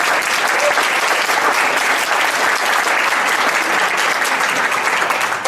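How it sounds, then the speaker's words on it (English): Sustained round of applause from a ceremony audience, loud and even, with many people clapping together in a continuous dense patter from start to finish and no voices over it. "Let's give Ann a round of applause"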